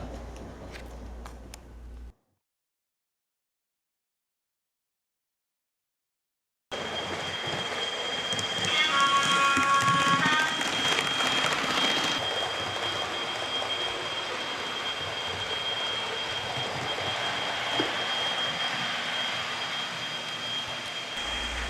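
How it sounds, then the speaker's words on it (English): After a brief silent gap, a model Class 43 HST train rumbles steadily along the track with metallic wheel squeals and a high whine, continuous and fairly close. "Class 43 HST is running a little over 90 miles an hour here"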